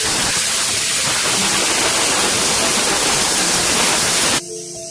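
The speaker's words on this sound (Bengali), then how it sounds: "নারকেলটাকে বাটতে হবে, আর আমি এখানে আদা আর ধনে জিরেটা একসঙ্গে বাটবো আর কি।" Coconut, ginger, coriander and cumin being ground into a spice paste for a jackfruit curry. A steady, loud broadband grinding roar runs throughout and cuts off abruptly just before the end.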